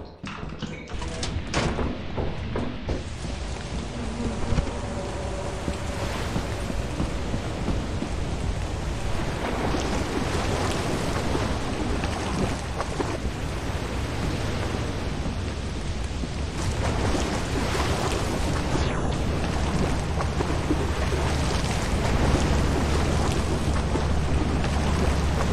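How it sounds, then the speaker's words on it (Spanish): Heavy rain pours steadily in the video game Lethal Company, a dense, loud broadband wash throughout with occasional deeper thunder-like rumbles, no voices. "Que llueve de la hostia"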